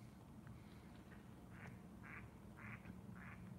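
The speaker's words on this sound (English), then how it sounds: "it's ducks out there" Ducks quacking outdoors near an urban camping spot at night, a series of five or six faint, short quacks in a loose rhythm over a low steady background rumble.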